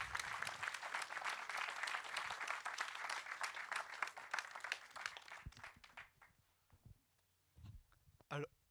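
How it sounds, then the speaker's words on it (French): A conference audience claps steadily for several seconds, then the applause thins out into a few scattered claps before a voice briefly sounds. "on peut vous applaudir bien sûr"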